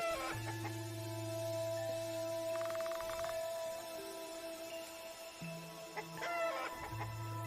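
Clucking of a chicken in an RPG Maker game, a few short rhythmic clucks and a brief crow-like call over a droning background of game music, with no voices.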